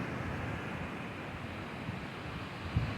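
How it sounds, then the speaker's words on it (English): Ocean waves and wind at the shore, a steady, dense roar of surf and gusting air with no distinct breaks, fairly faint and unbroken. "what is here is just this ocean, the wind, today the clouds, the beauty."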